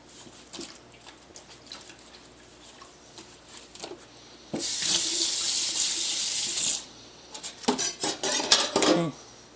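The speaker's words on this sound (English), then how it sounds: "wash my knife too." A kitchen knife is washed under a running tap: light metallic clinks, then a loud burst of rushing water for about two seconds, followed by more clattering and splashing as the tap eases off.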